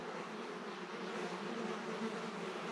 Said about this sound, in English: I hope they're flies and not bees or something like that.